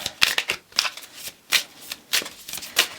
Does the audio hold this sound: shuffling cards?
yes